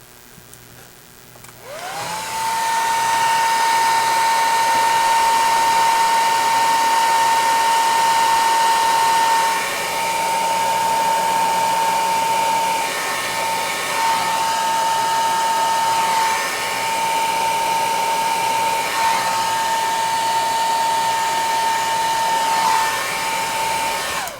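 A loud, steady blower roar from a heat gun shrinking heat shrink tubing over soldered wires runs for over twenty seconds, with its pitch dipping and wavering a few times as it is moved.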